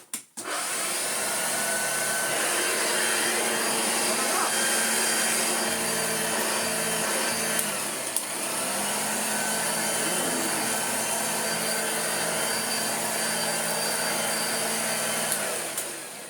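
A Hoover Junior U1040 upright vacuum cleaner runs with a loud, steady motor whine and whoosh of air from start to finish, dipping only briefly midway, with no talking.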